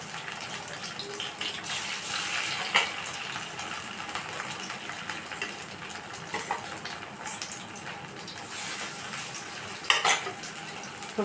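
Lentil cakes (dhoka) frying in oil in a pan, a moderate steady sizzle with occasional stirring scrapes and a couple of brief sharp clicks.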